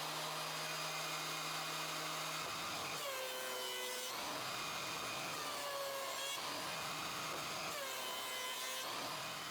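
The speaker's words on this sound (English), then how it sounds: "More sanding." Power sander working a planed wooden board about 1¼ inch thick in a home workshop, a steady close whine that shifts pitch as pressure changes, with pauses and restarts across the run.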